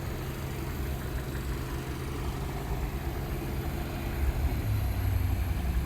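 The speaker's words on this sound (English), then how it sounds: "Now it has gone to the next phase of running the W116. It has dropped the RPM." An inline-four engine in a Mercedes W116 runs steadily nearby, a constant low rumble and drone that swells a little louder toward the end.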